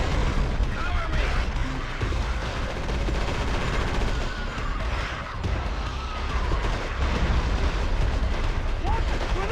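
Grenade blasts and gunfire in the PS2 shooter Area 51 make a dense, continuous roar of explosions and shots. Shouted soldier voices are mixed in throughout.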